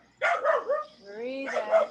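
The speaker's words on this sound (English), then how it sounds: "And the dog barks." A dog barks in a few quick yips close by, followed by a drawn-out whine and another short bark, with an outdoor quiet around it.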